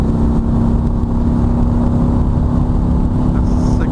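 Harley-Davidson Street Glide Special motorcycle pulling a sixth-gear roll-on at speed, a steady loud engine drone mixed with heavy wind rush, the pitch holding nearly constant throughout.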